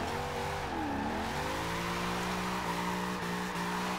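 A Toyota AE86 drifts sideways in the Forza Horizon 2 racing game, its engine revving through rising and falling pitch under a continuous tire squeal, loud and close.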